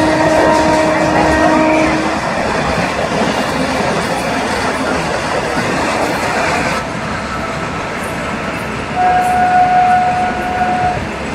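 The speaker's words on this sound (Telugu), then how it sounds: "గూడ్స్ ట్రైన్ మన బండి కూడా ప్యారలల్గా సమానంగా వెళ్తుందండి రేజ్లో అయితే" A passenger train runs alongside a goods train on parallel tracks, with a steady loud rumble and clatter of wheels, occasional squeals and a brief horn-like tone, heard from inside a general coach.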